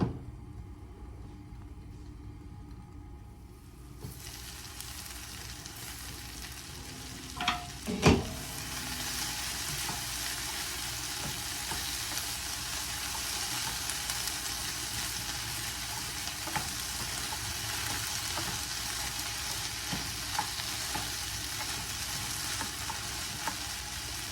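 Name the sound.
eggplant frying in a covered pan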